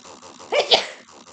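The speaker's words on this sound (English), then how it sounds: "excuse me, I'm going to sneeze" A single sharp sneeze up close, a quick intake followed by an explosive burst, with faint room noise around it.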